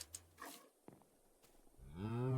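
Cattle in a video game give a loud, drawn-out moo that rises in pitch near the end, after a few soft clicks and thumps, with no talking.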